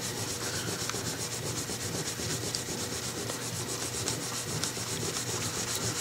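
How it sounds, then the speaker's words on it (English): Pink polish rubbed by hand onto a Bakelite plastic part of a Cremina espresso machine, making a steady, close, gritty scrubbing hiss that continues without pause. "You just kind of put that, give it a swipe over, and then rub."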